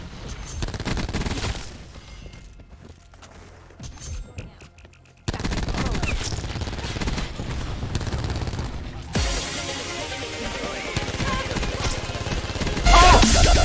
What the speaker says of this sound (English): Sniper firing.